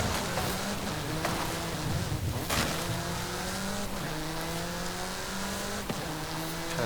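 A Viola sports car races in Forza Horizon 5, its engine loud and continuous with rising and falling revs as it speeds through countryside, plus brief tire and wind noise.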